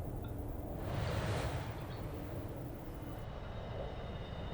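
An airplane in the Broken Arrow war video game roars past in a single swelling whoosh of engine noise that peaks and then settles into a softer drone.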